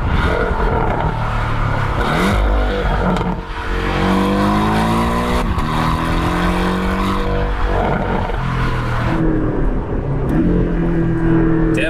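The 300 hp 2.0-litre engine of a Porsche 718 Cayman, a car without a particulate filter, drives hard. It plays loud and continuous throughout, with rising and falling engine pitch through gear changes and tire noise, and no voices.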